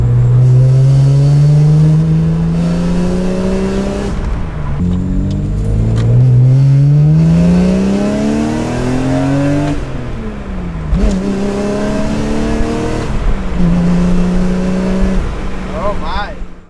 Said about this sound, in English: there's definitely a significant amount of rasp with the Catless headers